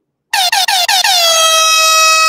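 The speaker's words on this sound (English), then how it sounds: "And then I'm going to hit the air horn because that makes it official." A loud air horn sound effect blasts nearby in four short stuttering bursts, then settles into one long sustained blare that runs to the end, with no voices.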